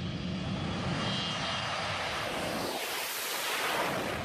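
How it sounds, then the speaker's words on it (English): An Aerosucre cargo airplane on a very low takeoff from a runway in Colombia gives a loud, continuous engine roar with a broad rushing, wind-like quality that stays close and sustained throughout. "this Aerosucre has almost run off the runway and can hardly take off."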